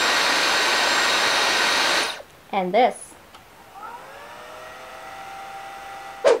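A Dyson Supersonic hair dryer blows with a loud steady whoosh, then cuts off; after a short pause a much quieter Panasonic Ionity hair dryer whirs on, with a brief voice between.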